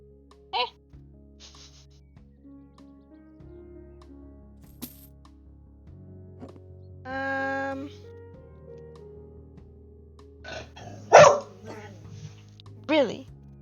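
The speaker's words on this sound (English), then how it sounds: "Who are you barking at?" A dog barks indoors during a home-renovation game session, giving a few sharp, separate barks near the end, with quieter vocal sounds earlier and a person talking nearby between them.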